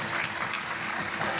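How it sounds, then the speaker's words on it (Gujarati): Audience clapping in a hall in Leicester, a dense burst of applause from a crowd that holds steady and loud for its whole brief length. "એમના મા બાપ માટે જોરદાર તાળી દીધો"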